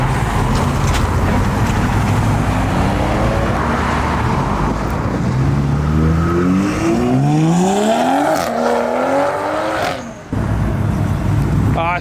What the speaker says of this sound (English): The Fast and Furious styled Veilside Supra thingy is coming out.